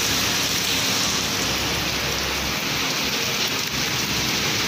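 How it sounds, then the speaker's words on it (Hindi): Heavy rain pours down in a dense, loud, unbroken hiss that holds steady throughout, with no voices over it. "बारिश भी बहुत ज़्यादा है, मौसम भी बहुत वधिया हो गया"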